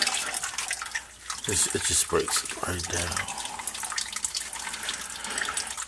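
Bore Saver iron ochre remover liquid pours and splashes into a sump pump pit, a running, gurgling water sound heard under a person talking.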